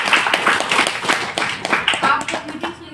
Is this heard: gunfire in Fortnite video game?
no